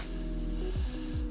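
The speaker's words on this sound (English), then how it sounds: "I'm gonna spray like Got To Be glue on this little rat tail comb." Got2b glue spray hisses onto a rat tail comb in a short, steady burst lasting about a second, close to the listener, with no talking.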